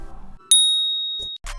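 A notification bell sound effect in a phone review outro: one bright, clean ding that rings out and fades over about a second, loud and isolated, followed by short clicks.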